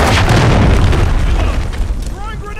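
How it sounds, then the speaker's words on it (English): A loud, close cruise missile blast in Call of Duty, a dense booming roar filling the clip and slowly tailing off while a game voice speaks over the end. "Friendly cruise missile deployed."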